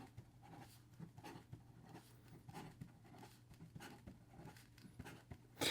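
Quick scratchy strokes of a Leonardo Momento Zero Grande ebonite fountain pen with a number 8 nib, writing fast on paper in a steady run of short taps and scratches, close and quiet over a low hum.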